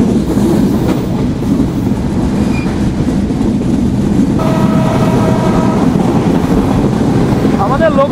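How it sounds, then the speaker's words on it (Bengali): The Chitra Express runs at speed between Khulna and Dhaka, a loud continuous rumble of wheels and wind, with the locomotive horn blaring in a sustained blast partway through. "আমাদের লোকোমাস্টার জোরে জোরে হর্ন বাজিয়ে ছুটে যাচ্ছে"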